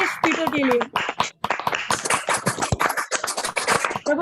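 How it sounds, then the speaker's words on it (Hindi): An audience claps for a best-student award winner at a graduation event: bursts of brisk clapping mixed with a voice talking over them, loud and close throughout. "जोरदार तालियां भाई"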